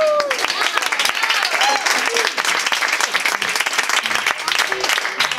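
Steady, dense applause from a street arts festival audience in Tortona, continuous crowd clapping with a few voices calling out over it.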